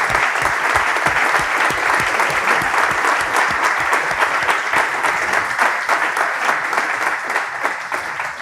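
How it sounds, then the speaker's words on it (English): Sustained audience applause at a mobile health care conference session honouring finalists, a dense steady wash of many hands clapping throughout, loud and close with no speech. "I would like to ask for a big applause for their hard work."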